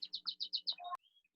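A small bird chirps six quick, evenly spaced high notes, then gives a lower warble cut off by a sharp click, followed by a few faint trailing peeps.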